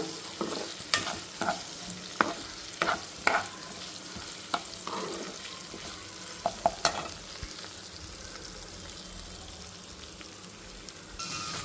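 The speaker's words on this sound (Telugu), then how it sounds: "సో చూడండి ఎంత మంచిగా వేగుతున్నాయో ఇప్పుడే వస్తున్నాయి మిర్చి మీద మచ్చలు" Green chillies fry with salt in a pan over low heat, a soft continuous sizzle broken by sharp crackles and the clatter of stirring, heard close with no voices.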